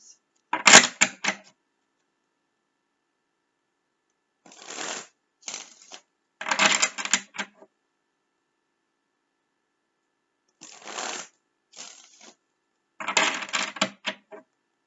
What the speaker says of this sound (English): I shuffle after every read and then I shuffle before.